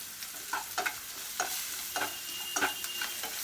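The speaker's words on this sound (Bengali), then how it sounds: "এটা বেশি খুব কড়া ভাজার দরকার নেই কারণ এটাকে আরেকবার আমি ভাজবো সেই জন্য হালকা ভাজা হলে" Turmeric and Kashmiri chili powder frying lightly in a pan, a soft continuous sizzle broken by repeated scraping stirs in an uneven rhythm.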